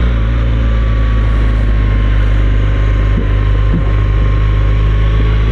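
A BMW R 1200 GS motorcycle being ridden, its engine a loud, steady low drone with heavy wind rush over it throughout.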